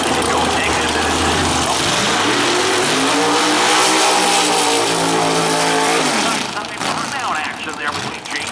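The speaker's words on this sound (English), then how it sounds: "burnout action there between Draco Martin and Mustang." Drag cars including a Mustang perform a burnout at a drag strip, a loud sustained engine roar with rising and falling revs and tire noise filling the whole stretch, while a commentator talks over it.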